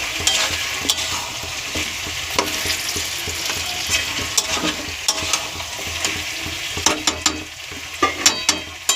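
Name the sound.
stirring spice paste into meat in a frying pan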